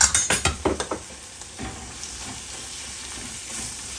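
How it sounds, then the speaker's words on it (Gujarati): Masala karela (bitter gourd) cooking in oil in a pan over low gas: a rapid series of scraping stirs up front, then a soft, steady close sizzle. "હવે પાછું આને ધીમા ગેસ ઉપર 2 મિનિટ માટે કૂક થવા દઈશું."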